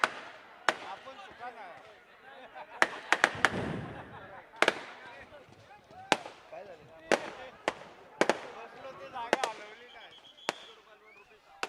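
Fireworks burst at a traditional wrestling tournament, a string of sharp loud cracks and bangs spaced irregularly, one dense rumbling volley in the middle, over crowd noise and a voice on a loudspeaker.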